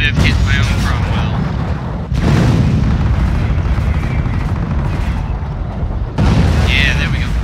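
Heavy artillery explosions in the strategy game Company of Heroes: Opposing Fronts, a British campaign battle, rumble loudly and continuously, with big booming blasts near the start, around two seconds and again near six seconds over a dense roar of battlefield noise.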